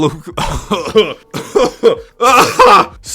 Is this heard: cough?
yes